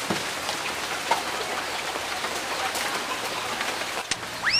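Steady rain falls outdoors, a dense even hiss of drops on surfaces throughout, with a few louder taps standing out and a faint bird chirp near the end.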